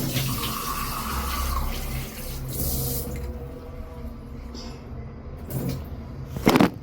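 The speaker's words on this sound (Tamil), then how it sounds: "அதுக்கு முன்னாடி நம்ம செடிக்கு தண்ணி ஊற்றிடலாமா?" Water is poured onto potted plants at home, making a running, splashing flow that shifts as the stream moves, with a few louder knocks and rustles toward the end.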